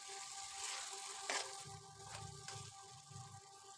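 Lote (Bombay duck) fish frying gently on low heat in a pan, a soft steady sizzle with a brief louder crackle, faint and close throughout.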